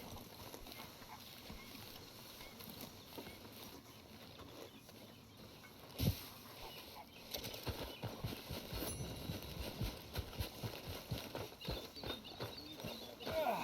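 Horse hooves in the video game Red Dead Redemption 2, soft and irregular at first, then a steady near clip-clop rhythm in the second half, with faint background ambience.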